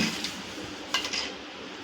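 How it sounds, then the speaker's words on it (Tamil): A spoon stirring almond mix powder into boiling milk in a metal pot for payasam, with a few faint clinks against the pot over a soft background hiss. "சேர்த்துட்டு இது ஒருக்கா கலந்துக்கலாம்."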